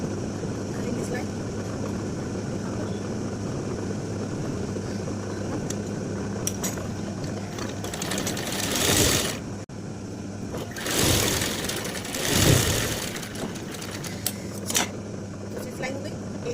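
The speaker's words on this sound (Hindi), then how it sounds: "और करेंगे सिलाई" A sewing machine stitches a pant, running in a fast steady whirring drone close by throughout, with brief louder bursts and pauses as the fabric is guided.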